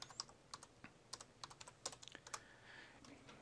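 Computer keyboard being typed on to enter a chat message, a quick, uneven run of close, quiet key clicks that trails off into a faint hush at the end.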